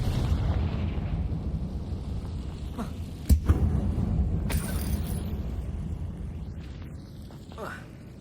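A Confringo fire spell explodes in an abandoned mine in Hogwarts Legacy, one sharp blast rising over low rumbling game ambience, with a voice speaking nearby.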